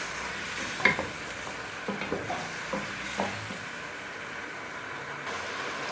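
Ginger and chili spice paste fries softly in ghee in a karahi, sizzling with scattered clicks and scrapes of stirring, a steady low crackle underneath, nobody speaking.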